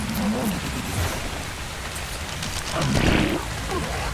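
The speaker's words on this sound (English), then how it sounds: "Oh, it's raining." Rain falls in the video game Ark as a steady wash of hiss and patter, loud and continuous, with a brief deeper roar-like surge near the end.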